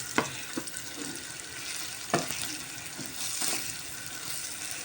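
Salted chicken pieces sautéed in a pan, giving a soft steady sizzle with a few sharp clinks of a utensil against the pan, fairly quiet and close, with no talking.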